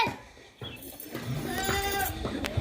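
A hungry tethered goat in a rural village bleats in a few wavering, nasal cries that swell and trail off, fairly close and clear, with faint background noise and no talk over it.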